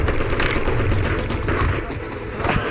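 Sustained automatic fire from a grease gun in a World War II battle scene at Hacksaw Ridge, a dense unbroken rattle of rapid shots blending with battlefield noise, loud and continuous throughout.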